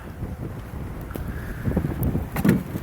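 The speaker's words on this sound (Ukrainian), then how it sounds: "вітер почав дути скажений" Strong gusty storm wind buffeting the microphone over an open field during herbicide spraying on millet, a steady rumbling roar with louder gusts toward the end.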